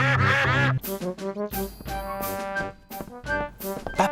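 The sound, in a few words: ducks quacking in cartoon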